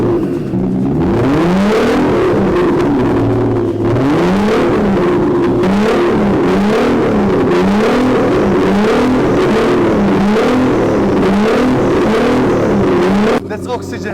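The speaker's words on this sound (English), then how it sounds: "I want to hear how loud this car is." A 24k gold-chrome Nissan GT-R engine revs hard again and again, each rise and fall of engine pitch loud and close, with barely a pause between revs.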